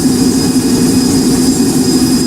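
A Boeing 757 in the Project Flight video game spools its jet engines for takeoff, a loud, constant roar with a steady low drone and high whine throughout, no one speaking.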